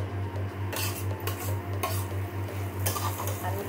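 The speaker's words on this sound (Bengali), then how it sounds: "আলুটা ভাজা হচ্ছে।" Potatoes fry in a pan while a utensil stirs and scrapes them, giving a steady low sizzle broken by several sharp metallic scrapes and clinks at close range.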